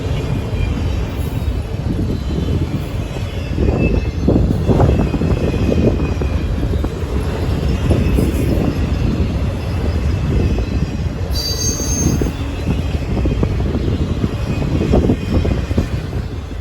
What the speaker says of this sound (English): This train symbol on this train would be NS14N, heading back to Conway, Pennsylvania, coming from Elkhart, Indiana, with a slew of auto racks